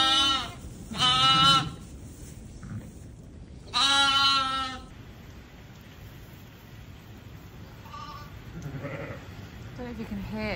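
Newborn triplet lambs bleating in a barn during windy, rainy weather, two loud close cries followed by softer, fainter bleats, with steady rain and wind noise and someone speaking in between.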